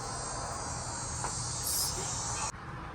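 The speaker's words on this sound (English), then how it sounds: "today I'm gonna be showing you the cicada I finally found." A Neotibicen auriferus cicada caught in a net gives a steady, high, buzzing drone outdoors that continues throughout at moderate level, swelling briefly and then dropping slightly near the end.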